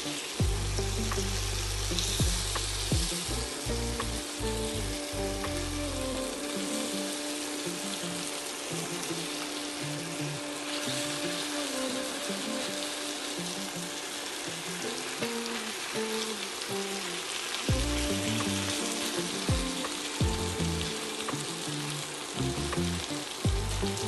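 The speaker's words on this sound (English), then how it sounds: "And drop in the beef. Because it has cornstarch, so you want to make sure it's really, really hot." Cornstarch-coated beef dropped into very hot oil sizzles and crackles loudly and steadily from close by, with low thuds and clanks of the pan and utensils now and then, no talking.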